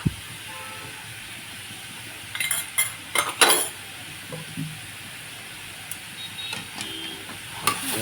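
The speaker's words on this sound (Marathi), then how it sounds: "मस्त मिक्स करून घ्यायचं" Momo filling with red chili and salt being stirred and mixed in a pan, a steady low sizzle under scattered scraping and clinking of a spoon against metal, louder in short bursts.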